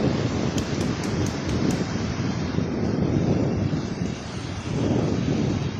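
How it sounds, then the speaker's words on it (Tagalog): A steady, loud roar of wind buffeting the microphone with a broad rushing wash that could be surf beneath, continuous throughout with no voices. "Lamig mahangin."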